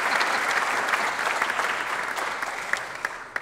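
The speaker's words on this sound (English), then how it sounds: "Give a round of applause to our friend Bob Nelson." Sustained applause from a seated audience at a small business awards breakfast, filling the room for Bob Nelson, dense clapping that slowly tapers with a few final claps.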